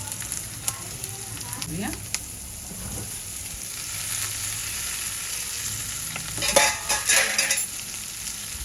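Vegetables for navratan pulao are stirred and sautéed in a hot pan, giving a steady soft sizzle with scraping spoon strokes and a louder burst of frying near the end. A short spoken word is heard.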